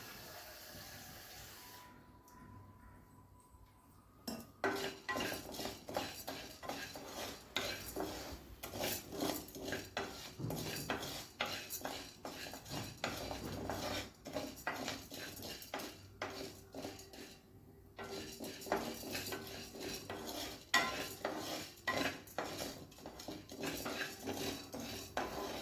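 Milk kheer ingredients are roasted and stirred in a pan, with a steady run of scraping and metallic utensil clatter against the pan, occasional light knocks, and louder clinks along the way.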